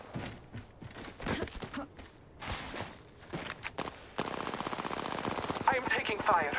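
Gunfire in an Apex Legends match, with scattered shots early on and then a sustained rapid burst near the end, mixed with footstep-like clatter and faint voices.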